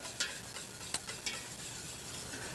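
Oil, egg yolks, water and vanilla whisked together for a chiffon cake batter, a steady close scraping swish in a bowl with a few sharp clicks of the whisk against the side.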